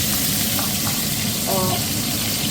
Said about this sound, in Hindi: अब इसमें जाएगी राई। ये गई राई। अब जाएगा इसमें हरी मिर्च